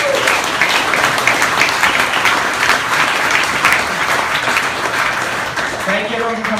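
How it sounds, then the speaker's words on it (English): Sustained applause from an audience at a Python user group meetup held at an office, a dense steady wash of clapping lasting several seconds, close and even in level throughout. "Dusty, round of applause."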